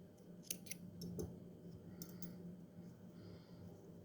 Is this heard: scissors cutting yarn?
yes